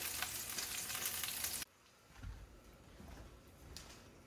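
Roasted beef bones fresh from the oven sizzle loudly in a bright hiss that cuts off suddenly, followed by quieter crackling and a few soft knocks.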